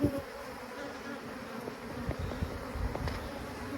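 Honey bees buzz in a tub as a beekeeper shakes them with powdered sugar during winter mite treatment, a dense continuous drone with small knocks and rustles, close and fairly quiet.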